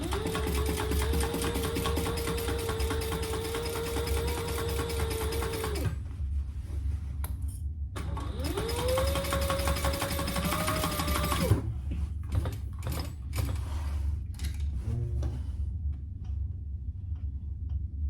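A sewing machine stitching a laptop bag, running in two steady motor-driven bursts of several seconds each with a rapid mechanical whir, then stopping for a few close clicks and handling taps.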